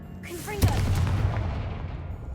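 A Confringo blasting spell in the video game Hogwarts Legacy bursts with one sharp, loud explosive crack after a brief whoosh, then a rumbling blast that decays over about two seconds.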